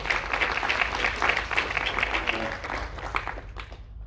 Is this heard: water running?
no